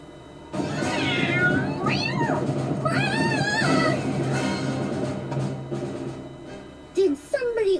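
A cartoonish cat from the Visions of Mana video game meows several times in rising, wavering cries over game music and ambience, with a short squeak near the end.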